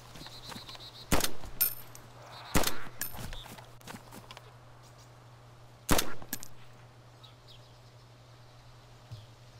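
Three sharp, separate gunshots ring out in the survival video game DayZ, spaced a second or more apart over a quiet outdoor ambience with a steady low hum and faint birdlike chirps.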